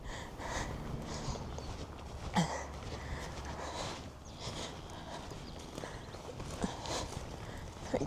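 Cows move along a rural track on the Isle of Ulva, hooves thudding and clopping in an irregular rhythm nearby, with snorts and sniffs amid outdoor wind.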